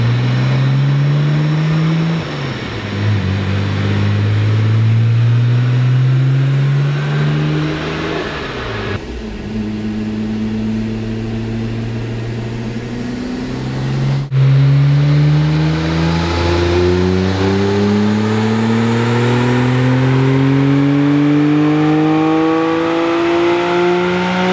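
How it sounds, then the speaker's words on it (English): An all-wheel-drive car runs on a dyno, its engine loud and close as it climbs through long, sweeping rev pulls, rising in pitch through the gears in repeated surges with no talk over it. "drive the car on the dyno"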